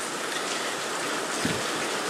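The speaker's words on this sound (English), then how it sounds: "this wonderful rain that we're having today" Steady rain falling in South Gilbert, a dense even hiss of drops close by, continuous and unbroken with no voices.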